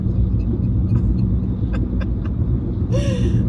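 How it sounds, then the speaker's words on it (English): A loud truck engine gives a heavy, constant low rumble close by, with faint higher chirps and a brief squeal near the end riding over the steady drone. "this truck is loud as all get out"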